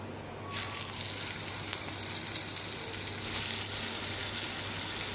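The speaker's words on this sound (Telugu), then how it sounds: "ఇప్పుడు ఈ విధంగా అయితే మిగిలిన చేపలను కూడా వేసుకొని ఫ్రై చేసుకుందామండి" Fish frying in hot oil, a soft bed of steady sizzling that bursts in abruptly after a brief quiet start and stays fairly faint and continuous, with a few small pops and no talking.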